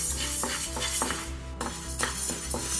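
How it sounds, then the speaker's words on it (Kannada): Moong dal being dry-fried in a pan, with a soft sizzle under rhythmic spoon scrapes and light clinks against the metal, close and quiet. "ನೋಡಿ, ಹೆಸರುಬೇಳೆ ಫ್ರೈ ಮಾಡಿದಾಗಿದೆ"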